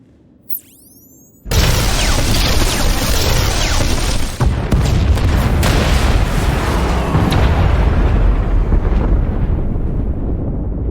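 Blasts from blowing the junctions in Star Wars: The Old Republic erupt after a short quiet lead-in, a sudden heavy boom followed by a sustained roaring rumble of explosions with wind-like noise and further thuds through the rest.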